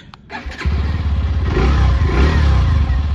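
A 2025 Hero Glamour X 125 motorcycle is started with its start switch. A short starter whir is followed by the engine catching with a loud burst, then a close, steady idle.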